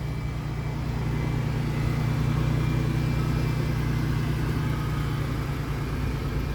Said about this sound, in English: Go ahead and close the door so you can hear the engine.